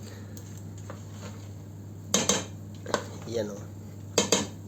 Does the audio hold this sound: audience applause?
no